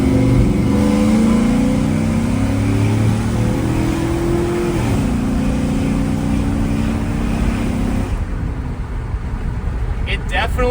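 A GMC Silverado truck engine fitted with long tube headers revs steadily with a loud, continuous rumbling exhaust note that drops away near the end.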